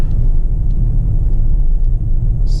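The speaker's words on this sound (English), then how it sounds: "You can definitely hear how the car burps from the exhaust." A 2020 Mercedes-AMG GT53 4-Door Coupe gives a deep, steady engine rumble with a low, uneven exhaust burble, close and loud, running continuously without talk.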